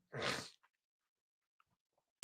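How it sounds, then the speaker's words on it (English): A single short, explosive sneeze close up, followed by near silence with a few faint small noises and a brief sharp sound at the end. "I have to sneeze again"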